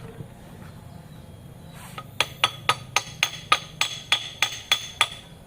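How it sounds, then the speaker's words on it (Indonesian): A hammer strikes metal on the engine of a Daihatsu Grand Max in a steady series of about a dozen sharp, ringing blows, evenly spaced, close up above a low background hum. "Pakai palu ya tuh"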